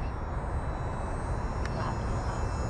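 A UMX Turbo Timber radio-controlled model airplane flying, its electric motor giving a steady broadband whir and rush that fills the clip, fairly loud with wind noise and no breaks.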